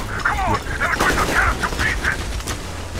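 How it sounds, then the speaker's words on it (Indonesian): Gunfire in the video game Metro Exodus comes as a rapid series of sharp cracks and booms over a rumbling background, bursts following one another for several seconds at moderate distance. "Kayak ada suara tembakan ya?"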